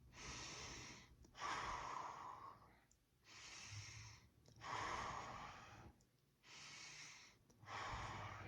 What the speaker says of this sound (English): breathing in deeply 3 times to center yourself